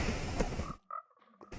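A Minecraft frog from the Wild Update gives a couple of brief, soft croaks amid quiet game sounds, with a short noisy burst before them.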